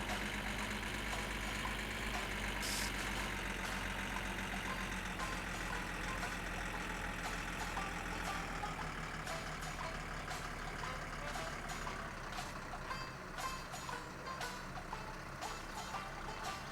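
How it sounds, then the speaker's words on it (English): In the My Summer Car video game, a vehicle engine drones steadily and loudly throughout. A low, heavy hum mixes with harsh mechanical noise and occasional clicks, suggesting a truck idling or driving nearby. "It sounded like somebody was driving over here."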